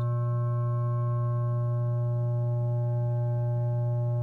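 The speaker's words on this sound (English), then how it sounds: "let's say this is our oscillator source" A steady ER-301 synthesizer oscillator tone drones with a strong low fundamental and stacked harmonics, holding loud and unbroken with only slight movement throughout.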